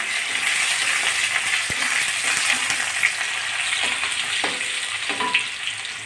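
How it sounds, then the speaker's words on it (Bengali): Lots of garlic fries in hot oil for a mashed cauliflower dish, giving a dense, loud, steady sizzle with occasional light clinks and scrapes, close up and without talk. "এই যে রসুন ফোড়ন দিলাম"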